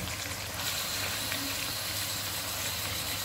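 Chicken pieces sizzling in browned ginger garlic paste in a pan on a gas cylinder stove, a steady, even hiss of frying that runs without a break and with no talking.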